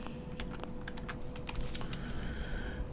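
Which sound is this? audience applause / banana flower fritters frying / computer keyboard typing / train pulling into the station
computer keyboard typing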